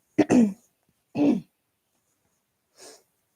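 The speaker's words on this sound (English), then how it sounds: "Sorry if my coughing is really loud." Two sharp coughs close to the mic, about a second apart, followed by a faint breathy exhale.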